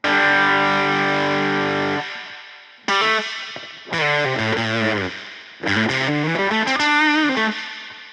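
An electric guitar plays through a reverb pedal that has a built-in preamp, with the reverb mix turned up. It rings out as a long sustained chord, then sounds again as several distorted, washy strums that trail into lush, echoing tails.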